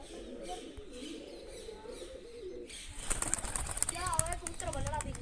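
Pigeons coo softly at close range, then a sudden burst of wing flapping breaks out, followed by chirpy calls and rustling as a large pigeon is brought out among the birds.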